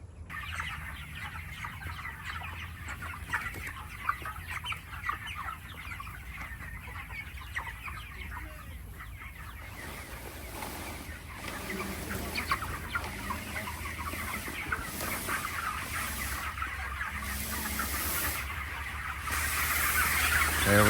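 Meat chickens clucking and calling inside a mobile range coop on pasture, a steady chorus of many birds nearby with a constant low hum underneath, growing slightly louder toward the end.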